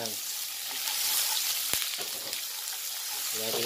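Sliced onion dropped into hot oil, giving a loud steady sizzle and crackle close up, with a brief sharp clatter midway and a voice speaking faintly toward the end.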